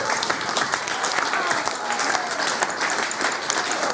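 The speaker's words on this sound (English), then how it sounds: "I think we should give Rona another applause" Guests at a wedding give a round of applause, dense steady clapping from a room of people with a few voices murmuring underneath throughout.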